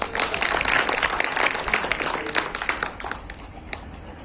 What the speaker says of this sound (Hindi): मेरा दिल भी खुश हो जाएगा जरा जोरदार ताली बजा दे